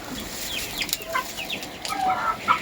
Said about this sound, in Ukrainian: Тут бройлерів. І їдять уже.